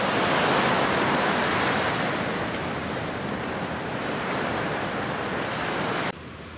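Ocean waves wash onto the beach at Mirissa, Sri Lanka, in a continuous broad roar of surf that swells slightly and then stays even, cutting off abruptly just before the end.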